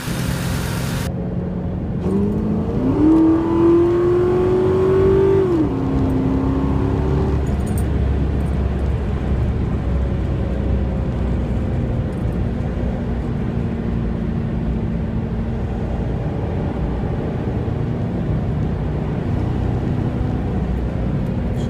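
A Ford Mustang engine, just repaired with a new idle air control valve, revs up briefly near the start and then settles into a steady, smooth idle that continues alone for the rest of the clip.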